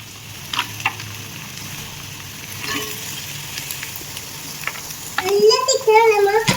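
Steady sizzling of grated coconut frying in a hot pan, with occasional scraping clicks of stirring and a voice rising near the end.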